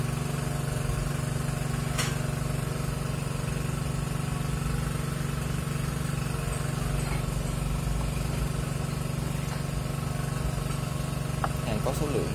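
A Kamo Japan 1:10 precision gearbox runs with its 200W or 400W motor, giving a steady, smooth mechanical hum and whir that stays constant throughout, with a few faint clicks near the end.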